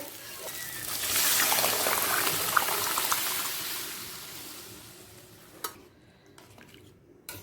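Boiled peas being stirred into fried spice masala for ghugni, a steady wet scraping and mixing that swells after the first second, then fades, with a couple of sharp utensil knocks near the end.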